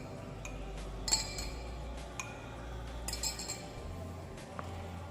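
A metal spoon clinks lightly against drinking glasses while spoonfuls of plain water are added, a few faint scattered taps over a steady room hum.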